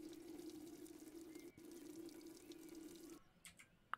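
Water runs from a tank tap in the Roblox video game as a steady, even stream. It stops abruptly, and a few small clicks and taps follow in the quiet.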